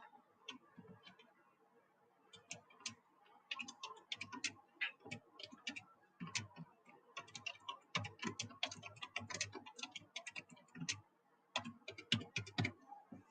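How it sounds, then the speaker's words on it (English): Keys clack on a keyboard in quick, irregular bursts of close, crisp taps with short pauses between runs. "can y'all hear me typing?"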